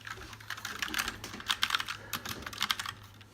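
Keys clack on a budget RGB mechanical keyboard with brown switches, a short burst of close, quiet, irregular presses and taps with no speech.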